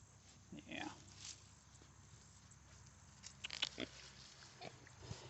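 Piglets in a fresh grass pasture give soft, scattered grunts and snuffles over faint outdoor background noise, with a brief busier patch near the end.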